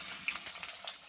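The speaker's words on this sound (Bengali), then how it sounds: "তো প্রথমে আমি আলুগুলো ভেজে নেব।" Potatoes frying in a pan give off a steady, close crackling sizzle, with small pops here and there across a short stretch and no voices.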